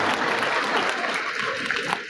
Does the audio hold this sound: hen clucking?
no